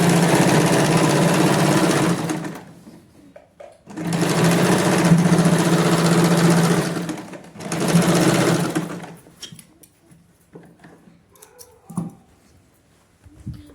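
Sewing machine top-stitching a hidden pocket on palazzo pants, three loud whirring runs of a few seconds each separated by pauses, then quiet handling and small clicks at the end.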